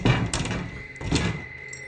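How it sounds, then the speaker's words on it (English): An attic hatch door is pushed upward, giving two dull wooden thunks about a second apart, close and moderately loud with no voices. "Just as Michael starts pushing up on the attic door, a small gap opens"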